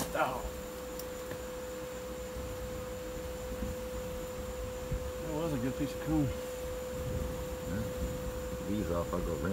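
Honey bees buzzing around an old structure full of nails and honeycomb, a faint steady drone with a low continuous hum underneath and short bursts of voices in the background.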